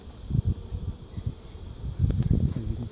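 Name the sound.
bees buzzing around a birdhouse hive box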